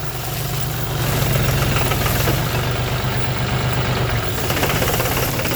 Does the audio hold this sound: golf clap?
no